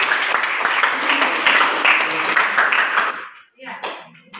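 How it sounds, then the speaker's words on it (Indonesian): A group of teachers in a classroom coaching session claps for group 1, a dense burst of hand claps lasting about three seconds before trailing off into quieter sounds and a few voices. "kasih tepuk tangan untuk kelompok 1"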